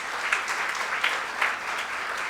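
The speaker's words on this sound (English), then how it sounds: "let's have a loud round of applause for him" An audience applauds a keynote speaker at a brand summit, a dense, steady wash of clapping from a large crowd that holds level from start to finish.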